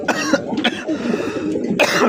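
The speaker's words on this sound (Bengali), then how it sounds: "সরি একটু কাশি এসে পড়ছে" A few harsh coughs close to the mic, several bursts in quick succession with brief pauses between them.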